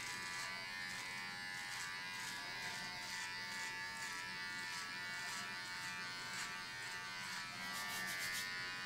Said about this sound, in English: Pretty smooth shave on the body here